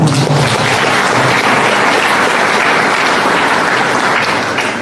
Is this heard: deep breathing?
no